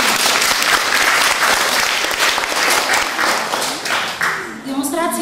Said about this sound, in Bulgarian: за което отново желая силни аплодисменти